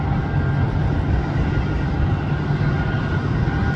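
An airplane on landing approach drones in a steady, moderately loud low rumble of engine and wind noise, continuous and without voices.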